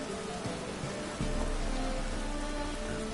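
Steady rain falls in The Witcher 3: Wild Hunt, a dense, even hiss of drops on surfaces that grows slightly louder and fuller partway through, with no voices.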